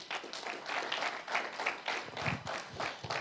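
Church congregation clapping for the Lord, a dense, steady wash of many hands applauding at close range for several seconds with no talk over it.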